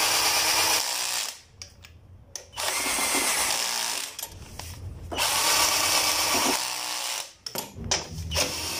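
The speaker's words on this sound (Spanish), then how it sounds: "Y ahora ya vamos a apretar los tornillos." A power tool tightens engine mount bolts on a Chevrolet Aveo, whirring loudly in several bursts that stop and start with short pauses.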